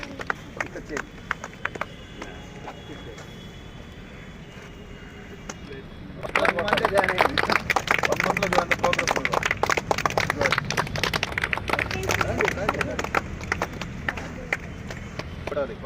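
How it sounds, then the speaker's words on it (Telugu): An audience at a Republic Day celebration breaks into loud, dense clapping after a quieter stretch with a voice, and the applause continues steadily to the end. "సార్ మీరు క్లాప్స్ కొట్టాలి ఎవరు క్లాప్స్ కొట్టాలి"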